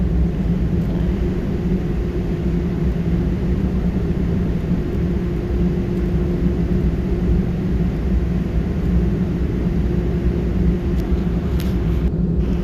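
A loud, steady airliner engine drone roars continuously with a deep rumble before takeoff, heard up close and without any talking.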